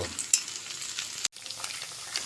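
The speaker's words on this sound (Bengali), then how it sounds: "পেঁয়াজটাকে একটু হালকা করে ভেজে নেব" Onions frying lightly in a pan for Bengali egg fried rice: a close, continuous sizzle with a soft stir, broken by a very short drop out partway through, with no talking.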